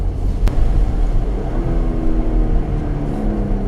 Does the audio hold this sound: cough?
no